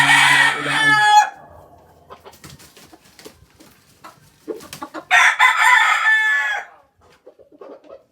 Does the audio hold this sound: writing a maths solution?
no